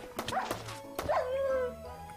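Dogs in the Minecraft Invasion modpack give a few sharp, close yapping barks in quick succession, then a drawn-out whining yelp.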